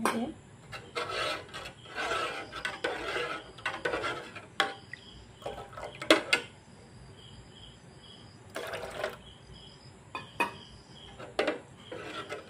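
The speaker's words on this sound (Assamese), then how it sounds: "এনেদৰে চামুচ দি লৰাম আৰু অলপ অলপকৈ ভিনেগাৰ দিম।" Metal spoon scraping and rasping round a pot as milk is stirred while vinegar is added bit by bit to curdle it for mini rasgulla, a steady run of close, uneven strokes with clinks and no talk.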